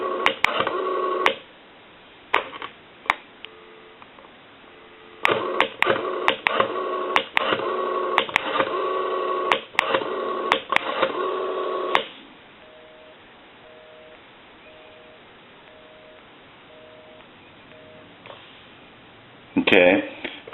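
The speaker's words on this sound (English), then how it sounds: "I'll give you some dial tone. We'll call my number and it'll be busy." A Western Electric 5302 rotary telephone under repair gives a steady dial tone, then bursts of clicking dial pulses and a busy signal's repeated beeps, with someone talking intermittently throughout.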